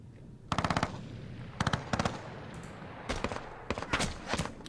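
Machine gun fire in the Panzer Battles Normandy wargame, set around Cherbourg, arrives as several loud, rapid, rattling bursts separated by short pauses over a continuous low rumble of battle.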